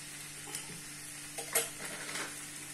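Capsicum curry being stirred in a pan with spice powder, a soft continuous sizzle with a few light scraping and clinking touches of the spoon against the pan.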